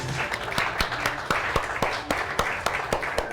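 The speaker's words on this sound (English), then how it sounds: "Nice loud clap." Loud applause and clapping from a crowd at Helix Brewing Company, with sharp individual claps standing out irregularly over a steady patter throughout.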